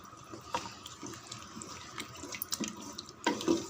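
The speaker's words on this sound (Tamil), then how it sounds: "6 டம்ளர் தண்ணி சேர்த்துடலாம் ஃப்ரெண்ட்ஸ்" Water poured into a pot of chicken biryani rice, a splashing, gurgling stream that comes in uneven bursts and swells louder near the end, close and alone.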